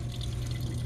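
Water trickles and drips from a drain pipe in a brief, faint wash of splashing over a low rumble.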